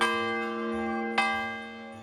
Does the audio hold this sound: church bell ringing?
yes